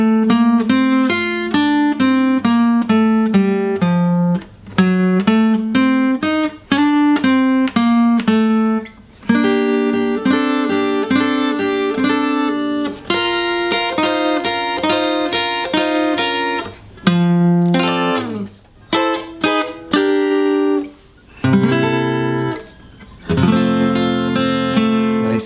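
Solo guitar plays the solo from a song, slowly picking single-note melodic phrases with a few chordal accents. The tone is clean and close, brief pauses separate the phrases, and no one speaks.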